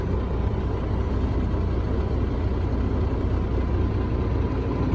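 Low, steady rumble of a tractor-trailer's diesel engine running in low gear with the clutch released during a parked brake test, a constant close drone without break and no talk.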